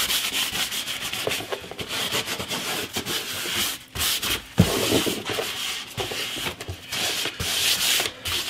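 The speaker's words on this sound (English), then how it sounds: "Let's wipe all this glue off." Cloth rubbing glue off a wooden bass guitar build, steady close scrubbing strokes with brief pauses, no talking.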